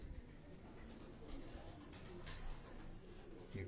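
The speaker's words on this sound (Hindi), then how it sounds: "ये भी छत वाले कबूतर हैं" Soft pigeon coos murmur faintly in the background, low and repetitive, amid quiet ambient noise.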